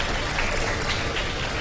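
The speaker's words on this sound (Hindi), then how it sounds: "सही जवाब पर इतनी सी तालियां हैं।" A studio audience at a televised iftar quiz show claps in steady, dense applause, loud and close, filling the whole short stretch without pause.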